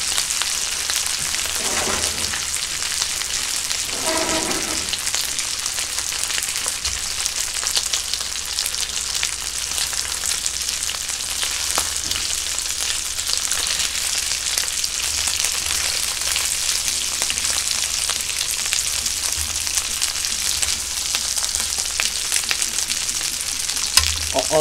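Chicken breast fried rice sizzling in a frying pan, a loud, continuous crackling hiss of hot oil that runs steadily for the whole stretch, with faint scraping stirs early on.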